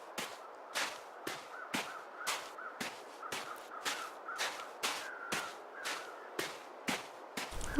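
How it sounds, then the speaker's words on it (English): Birds in the video game The Long Dark caw in a steady repeating series, about a dozen sharp calls spaced roughly evenly, moderately loud against a quiet background. "Oh, look at those birds."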